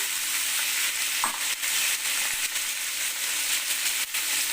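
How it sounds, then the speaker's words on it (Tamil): Mustard seeds, curry leaves and green chilies sizzling and crackling in hot oil, a continuous bright frying hiss with a few soft stirring knocks, close and alone without talk. "கடுகு புரிஞ்சிட்டு கருவேப்பிலை போட்டுக்கலாம் பச்சை மிளகா ரெண்டு போட்டுக்கலாம்"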